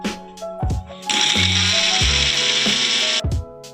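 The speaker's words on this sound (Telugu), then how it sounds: "ఈ మిక్సీ గిన్నెలో ఈ పండుమిర్చి అలాగే రెండు స్పూన్లు జీలకర్ర వేసి బాగా మిక్సీ పట్టుకోవాలి" A kitchen mixer grinder blends red chillies with cumin in its jar, short clunks and clicks leading into a loud, close whirring run of about two seconds that then stops.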